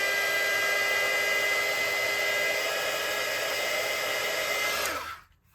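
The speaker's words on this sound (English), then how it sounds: "You can either use your soldering iron or, in this case, a heat gun, quickly to shrink that on." Heat gun blowing hot air to shrink heat-shrink tubing over lightsaber wiring, a steady loud whooshing hum that runs for about five seconds before winding down to silence.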